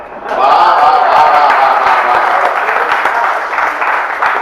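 Audience applause at a Hindi poetry and comedy recital, a loud burst of many hands clapping that swells quickly and carries on steadily, easing only slightly toward the end.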